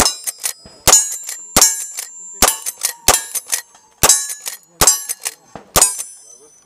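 Gunfire from a shooter at a range, sharp loud cracks repeating roughly every second, each with a ringing metallic clang trailing after it, alone without talk.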